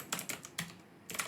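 Short bursts of keystrokes on a computer keyboard as a git command is typed, four or five quick clicks in a small cluster, close and soft, with no speech.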